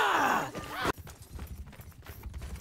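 Horse in a video game: a close whinny is followed by quick, rhythmic hoofbeats of galloping, fairly soft and steady.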